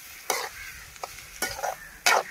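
Onions and tomatoes sautéing in a pan for crab thokku, heard as three or four short bursts of stirring and sizzling scrapes, fairly close, separated by quiet gaps.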